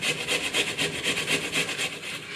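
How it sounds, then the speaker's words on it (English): A box grater scrapes food across its biggest side in quick, steady back-and-forth strokes, a close, even rasping rhythm with no talking. "using the biggest side of the grater, crack on with it"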